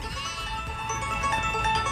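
Sheep bleating in the Rancher's Wealth slot video game, a short tonal bleat layered over bright chiming game music and jingles.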